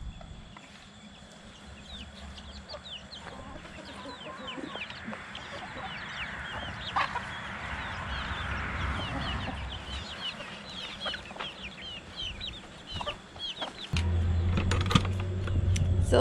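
Backyard chickens with a rooster clucking and chattering, many soft overlapping clucks close by, steady throughout, with a louder low rumble entering near the end.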